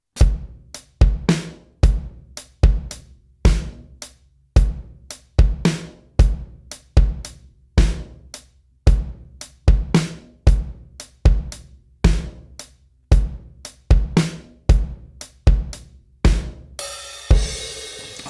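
A drum kit plays a shuffle groove at a slightly faster tempo, a steady loop of punchy kick and snare hits with shuffled ghost notes and hi-hats, close and clear, ending with a brief cymbal wash.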